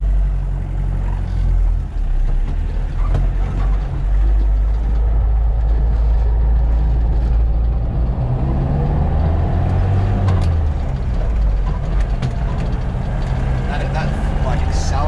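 An old Toyota Hilux with a little turbo diesel engine drives along, its steady low engine drone and rumble loud and continuous throughout, with road noise layered on top.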